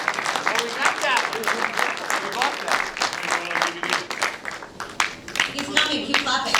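Applause from the audience at a film festival award ceremony after Best Dramatic Feature is announced, moderately loud and uneven, with voices talking and calling out over the clapping.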